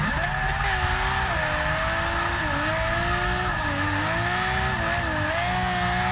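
Nissan R34 drift cars cornering at Monza during an open-bracket drift event, with loud continuous engine roar rising and falling and tires squealing steadily as the cars hold their slides through the turn.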